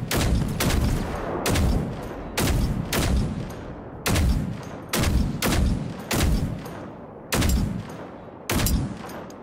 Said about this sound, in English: I'm shooting the tank with the 50